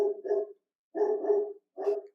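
A dog barks in three separate bursts, close and fairly loud, each a rough cluster of barks with short gaps between them and no talking.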